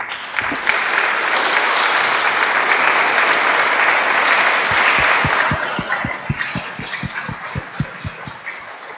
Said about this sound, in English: There are 3 rounds of applause here actually in place.